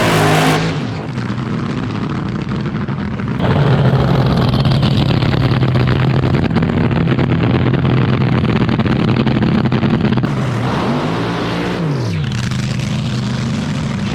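Top Fuel dragster engine of driver Michael Anderson firing up at a drag strip, a loud sustained roar with revving surges and a sharp rise in pitch midway, then settling and surging again.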